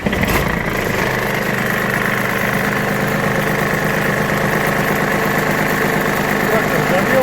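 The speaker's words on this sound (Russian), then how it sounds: "Так, сейчас мы заведем трактор." An Iseki Sial Hunter 22S Japanese 22 hp mini tractor engine starts and settles into a steady, loud, close idle with rhythmic knocking vibration, alongside someone speaking.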